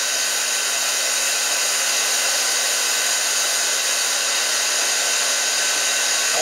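A mattress cleaning extraction machine runs over a mattress, giving a steady, loud, continuous motor whine and airflow hiss with a constant tone, unbroken for the whole stretch and with no talk.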